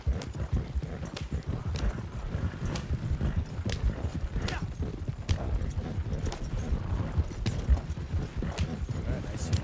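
Horse-drawn wagon rolling along in Red Dead Redemption 2, steady clip-clop of hooves with rumbling wheels and occasional creaks, continuous under someone talking.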